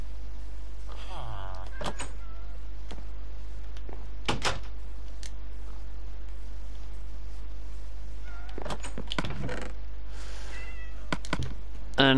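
A Minecraft cat gives a couple of short meows, one early and another later, over a constant low hum with faint clicks and bumps from gameplay.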